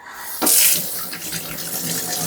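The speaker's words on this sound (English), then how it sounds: "Just clean them up like this, run them under the water." Mangoes are rinsed under a running kitchen tap, a steady hiss of water splashing into the sink that swells briefly as the fruit enters the stream and then stays even and close, with no voices.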